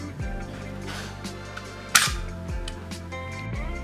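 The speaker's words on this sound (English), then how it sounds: "when I move the slide forward, it should shoot the blade out" A homemade hidden blade mechanism, a Colin Furze recreation, fires its blade with a single sharp mechanical snap in the middle, surrounded by softer sliding and clicking handling noises close up.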